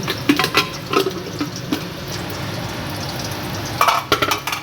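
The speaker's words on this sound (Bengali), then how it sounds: "আর এদিকে মাছগুলো আমি কেটে কেটে ভাজছি" Pabda fish pieces fry in a pan with a steady close sizzle, broken by clinks and scrapes of a utensil at the start and end.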